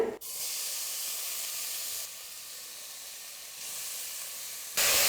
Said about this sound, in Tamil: ஸ்டவ்வை மீடியம் ஃப்ளேமில் வச்சுக்கிட்டு இப்போது நல்லா வதக்கிக்கலாம்.